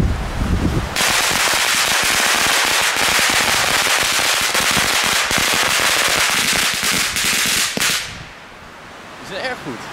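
A rapid, dense barrage of Belgian fireworks set off electrically, crackling almost continuously for several seconds at high volume before cutting off abruptly, leaving faint scattered pops and a bit of background noise.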